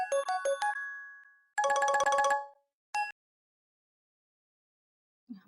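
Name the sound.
phone ringing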